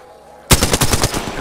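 Rapid automatic gunfire in the video game Apex Legends erupts suddenly after a quiet lull, a loud burst of roughly eight quick shots, with no talk over it.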